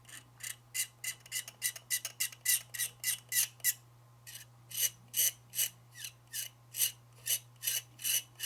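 A hobby knife or tool scraping a plastic model building part, a Cairo port terminal structure for an F3 A-B-A train layout, in a quick series of sharp, close rasping strokes with a brief pause midway, over a steady low hum.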